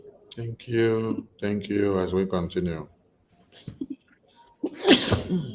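A person speaks briefly, and after a short pause a single sharp, loud sneeze bursts out close to the microphone.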